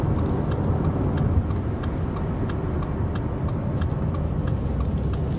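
A Subaru XV 2.0i CVT with a 115 kW engine drives along a road, giving a steady, loud interior rumble of engine and tyre noise with a faint repeating ticking throughout.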